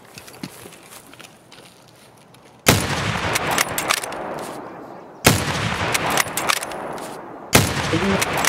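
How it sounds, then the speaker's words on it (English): Loud gunfire in the video game Escape From Tarkov: three sharp, close bursts of shots a few seconds apart, each followed by rattling, over a quieter background of movement. "He just shot me right in the face."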